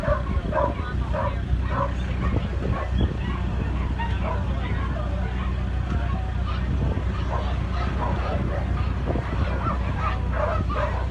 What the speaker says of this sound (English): Let's check out these puppies that are coming.